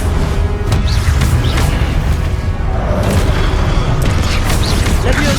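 Spell explosions in a Harry Potter video game on PS5, a dense, continuous rumbling boom with crackling bursts and whooshes, loud and close, with some voice mixed in.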